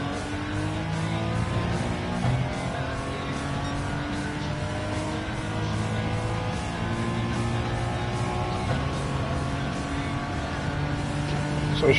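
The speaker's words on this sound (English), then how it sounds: "Listen to that engine noise." Le Mans road car engine in Gran Turismo 7, a steady droning note rising and falling through gear changes, sustained and fairly loud across the whole stretch, with faint tire noise.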